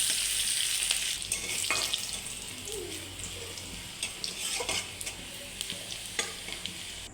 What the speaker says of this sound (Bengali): পেঁয়াজ কুচি, একটু নাড়লাম, একটু হালকা লাল লাল ভাজা হবে